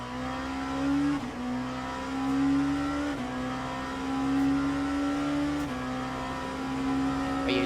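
LMP2 prototype race car engine in a racing video game, a steady high-pitched drone with small pitch shifts as it revs and shifts, moderately faint and without talk.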